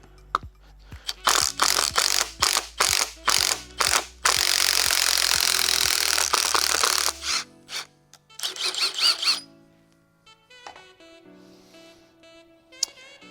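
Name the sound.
standard gear puller pulling pinion gear off motor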